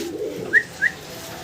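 Fancy pigeons at a pigeon farm, large Gopalganj birds, give two short, quiet coo notes close together over faint background noise.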